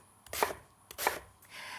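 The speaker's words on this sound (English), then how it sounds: "we'll cut them into about 3 centimetre pieces" A knife chops eggplant into chunks, making three crisp, close cuts against a board at an even pace.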